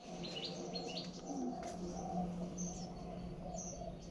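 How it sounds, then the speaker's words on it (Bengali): A parrot calls outdoors in a village with repeated short, high chirps, fairly faint over a low steady background hum. "টিয়া পাখির আওয়াজ শোনা যায়।"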